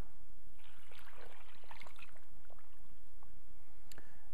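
Water pours into a pot of cream of mushroom soup with potatoes, carrots and onions for grouse stew, a short splashing trickle followed by a few faint drips and clinks.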